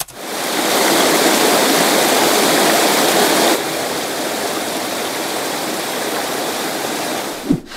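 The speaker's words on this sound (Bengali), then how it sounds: "এটা ঝর্ণার একটা অবশিষ্ট মাত্র।" Loud, steady rush of water from the remnant of a hidden waterfall stream at Faskhawa, Alipurduar, a dense broadband roar that drops a little in level midway and continues without voices.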